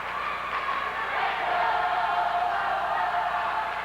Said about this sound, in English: They're doing the Chrissy cheer.